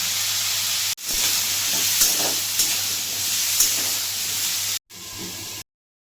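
Mustard seeds and radhuni spice fry in a pan for a Bengali shukto, giving a loud, continuous close-up sizzle with small crackles, briefly cut once and then stopping abruptly.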